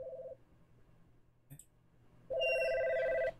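Electronic telephone ring in the horror game God's Basement, a steady tone pulsing through one long burst after a brief opening chirp and a faint click, fairly loud and clear with no voices over it.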